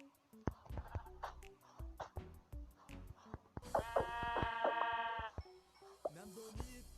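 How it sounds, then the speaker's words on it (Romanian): Sheep bleating in the Minecraft video game, a clear wavering bleat in the middle over a run of rhythmic game clicks and thuds, with no talking. "Uite o oaie."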